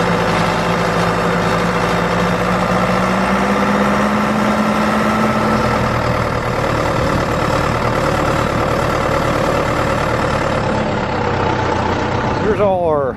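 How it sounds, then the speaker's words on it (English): A farm tractor engine idles close by in a steady, low, unchanging rumble, with a slight shift in pitch partway through and a brief rising sound at the very end. "So we're gonna take the tractor up there, get some water and fertilize in it"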